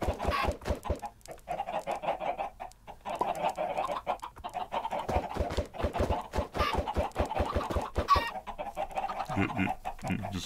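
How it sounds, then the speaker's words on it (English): A flock of video-game chickens clucks steadily and close, with dense overlapping clucks and an occasional crow running throughout, and no talk over it. "You just making a bunch of chickens there?"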